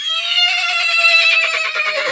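A horse gives one loud, close neigh that holds for about two seconds, a high whinny wavering with a fast vibrato before it trails off, with no talking over it.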